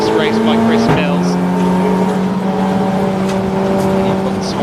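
Race cars, Golf TDI and TT TFSI models, roar loudly and steadily around the Snetterton circuit, engines droning and shifting pitch as they pass, with a commentator talking over the noise.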